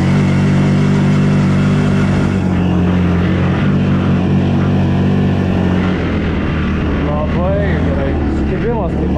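A 4x4 quad bike engine runs loud and close in a forest, its steady drone shifting into rising revs and pitch sweeps toward the end, with people talking over it.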